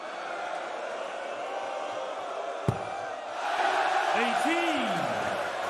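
A darts crowd cheers and shouts at a World Series event, a steady roar of voices that swells louder midway with whoops, plus a sharp thud just before the surge.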